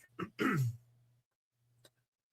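A person clears their throat with a short cough, two rough bursts close to the mic, followed by a faint low hum and a tiny click.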